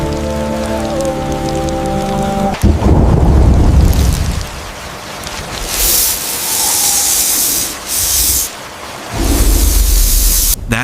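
A heavy thunderstorm at night, with loud steady rain hissing throughout and deep thunder rumbling and cracking close by, no voices.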